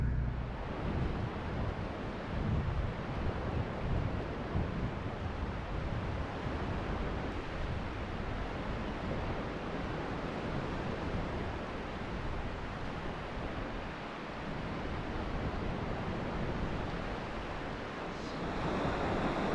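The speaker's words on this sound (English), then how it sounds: "we made it out here to the beach" Ocean waves on a beach at sunrise, a steady broadband roar of surf with a little wind buffeting the microphone, continuous and fairly close, with no voices.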